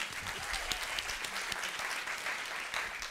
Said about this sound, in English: let's give it a hand of applause to her new business